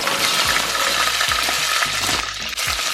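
Bacon fries in a pan with a dense, continuous crackling sizzle, close and loud, broken by a few low knocks and scrapes of a utensil.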